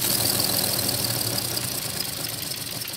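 A small 3D-printed LiquidPiston rotary engine runs steadily, producing a dense, continuous buzzing rattle that is loud and close and holds without a break throughout.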